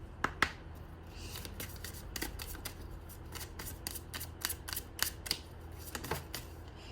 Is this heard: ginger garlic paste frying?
no